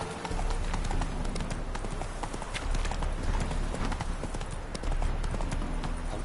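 The horse Roach trotting in The Witcher 3, a continuous rhythmic clip-clop of hooves, close and fairly loud, with faint background game ambience.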